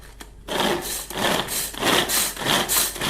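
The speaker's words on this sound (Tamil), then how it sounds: "இந்த வெங்காய கட்டரில் போட்டு இப்போ அருவாமனையில் அரியாமல் கட் பண்ணுறோம்." Onions chopped in a hand-operated onion cutter while making thalippu vadagam: a steady run of loud, rhythmic chopping strokes roughly twice a second, close and with no talking.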